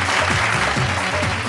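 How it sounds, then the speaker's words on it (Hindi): A crowd claps loudly and continuously at a Bhojpuri singing show, a dense, even wash of applause for a brief moment with no voices over it. "जोरदार तालियां।"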